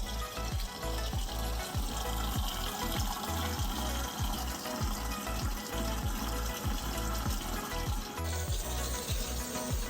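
Water filling RV holding tanks for cleaning, a steady close rush of flowing water with a continuous gushing hiss and rhythmic gurgles, no talk.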